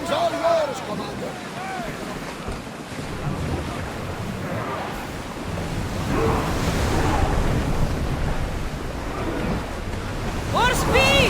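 A ship sailing through rough ocean waves in Assassin's Creed Odyssey: a constant loud rush of surf and wind, with brief voices at the start and end.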